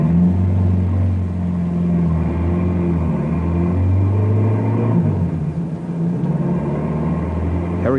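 In an old-time radio drama, a car approaches a roadside barricade as a steady mid-pitched engine rumble with slight rises in pitch. It is loud and close throughout, with no talk.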